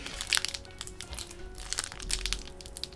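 A Pokémon card pack is torn open by hand, making crinkling, crackling foil rips in short bursts that come close and loud, with small pauses between tugs and no voices.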